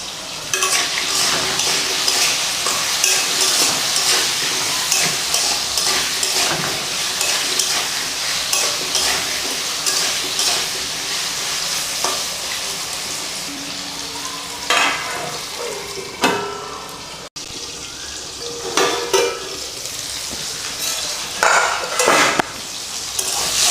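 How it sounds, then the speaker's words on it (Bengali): Potato pieces fry in hot oil in a wok with salt and turmeric, making a continuous loud sizzle broken by scraping stirs and clinks of a utensil against the metal. No one talks. "আমাদের আলুগুলো হালকা ভাজা হয়ে এসেছে।"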